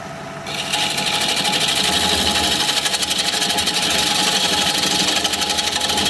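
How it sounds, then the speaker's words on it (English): A parting tool cuts into wood on a lathe spinning at 750 RPM while turning a rustic vase, giving a loud, steady, continuous whirring grind with a fast, even pulse and no talking. "I'm going to use my parting tool to part this off."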